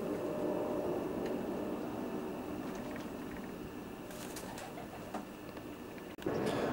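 Racing pigeons coo softly inside a loft, with low murmuring calls over steady faint background noise and a brief clatter near the end.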